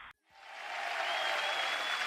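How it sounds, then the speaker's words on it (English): Audience applause: a steady wash of clapping from a crowd that swells in after a short pause and holds evenly, fairly quiet and without talk. "Thank you, ladies and gentlemen. Hold your applause."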